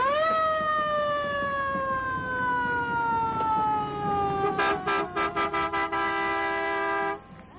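A Higgins fire truck sounds its siren in a parade, with long sliding wails that fall slowly in pitch, then a burst of rapid chopped horn-like blasts before the sound cuts off, loud and close throughout.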